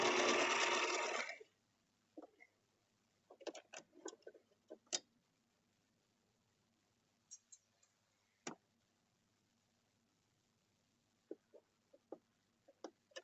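Home sewing machine stitching a simple pillow, a steady whirring burst at the start followed by scattered ticks and clicks of the machine and fabric handling, close by and with no talk.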